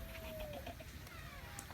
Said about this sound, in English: Birds beyond belief. Small birds.